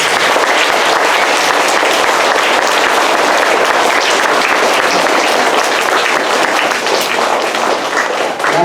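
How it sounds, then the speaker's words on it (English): Loud, dense applause from a close audience for students at a school gathering, sustained evenly and alone for several seconds. "now you can give them a big round of applause."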